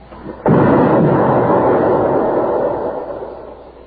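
A landmine explosion in an old radio crime drama bursts in suddenly as one loud, close boom, then rolls into a broad rumbling roar that slowly fades over the next three seconds.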